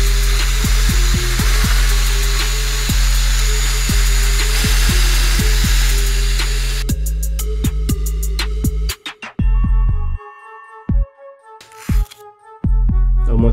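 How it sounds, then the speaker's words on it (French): A soft brush scrubs carbon deposits off the intake valves of an Audi A3 TFSI 200 EA113 engine, close up: rapid, steady rhythmic scrubbing, then a few short, separate strokes with pauses between them. "je prends une deuxième brosse et une brosse qui est beaucoup plus souple que l'autre"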